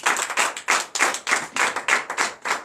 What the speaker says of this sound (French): Donnez encore de vive acclamation au Seigneur.